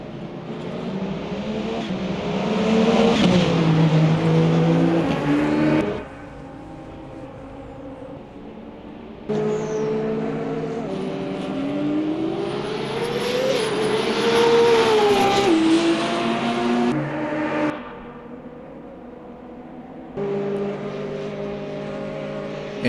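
Race car engines from the United Autosports LMP2 and nearby prototypes in the Le Mans Ultimate racing game, with no talk. Loud revving passes rise and fall through gear changes, with sharp drops around six and eighteen seconds and a quieter gap in between.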